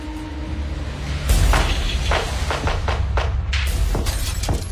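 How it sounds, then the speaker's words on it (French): Bursts of gunfire ring out outdoors, a series of sharp cracking shots in quick irregular succession over a steady background rumble. "des rafales de coups de feu à l'extérieur"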